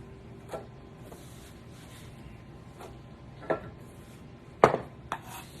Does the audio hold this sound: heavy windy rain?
no